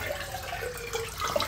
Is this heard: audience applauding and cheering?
no